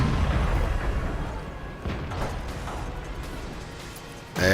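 In World of Tanks, a WZ-111 Tier 8 Chinese heavy tank battle brings heavy booms and mechanical clanks over a rumbling engine bed, ending in a sharp loud impact.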